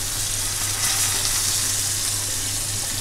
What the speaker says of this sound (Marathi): आता काय असं हे ना हळूहळू परतायचे आहे